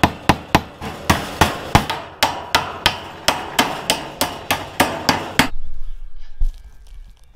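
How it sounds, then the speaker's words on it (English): Regular nails are hammered into wood in a quick, steady run of about sixteen sharp, loud strikes over five and a half seconds, followed by quiet. "putting one on each side and hammering it over the top,"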